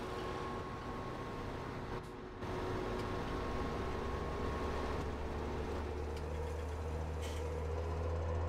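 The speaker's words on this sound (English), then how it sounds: "Oh, I need to start the engine here first." Steady low engine drone of a tractor in Farming Simulator 17, running continuously after a brief dip near two seconds, with a constant hum and faint higher tones above it.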